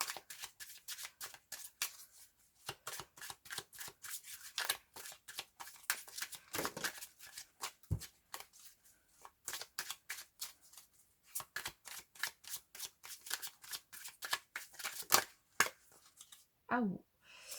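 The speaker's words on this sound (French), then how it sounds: "je me fais mal en battant les cartes" Tarot cards are shuffled by hand in quick rhythmic riffling bursts, close and fairly quiet, repeating throughout with brief pauses, and someone speaks over the shuffling near the end.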